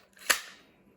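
A magazine is pushed home into a T77 mini Uzi gas blowback airsoft replica, giving one sharp, close metallic click that rings out briefly before fading.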